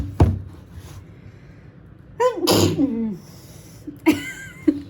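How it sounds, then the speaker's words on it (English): A sudden sharp sneeze bursts out mid-clip, bracketed by a small throat sound beforehand and a brief breathy exhale afterward, close and loud against quiet. "And a sneeze."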